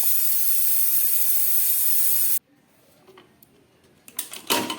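A pressure cooker of pumpkin stalks and potatoes on a gas stove vents steam in a loud, steady hiss lasting over two seconds before cutting off sharply, followed by quieter clinks and rattles.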